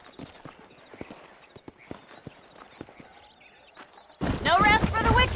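Horse hooves clip-clop in a quick, even rhythm in the Red Dead Redemption video game, fairly quiet and steady before a voice breaks in loudly near the end.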